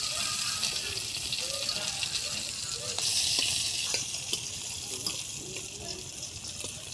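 Bay leaves and onions sizzling in hot oil in a pan for egg curry, a steady soft crackle and hiss with occasional stirring clicks, under a voice speaking.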